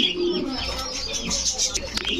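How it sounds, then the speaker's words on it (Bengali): Racer pigeons coo at a bird market, with soft low throaty cooing and a few chirps close by amid a busy background. "এটা ভাই এটা রেসার কবুতর রেসার কবুতর"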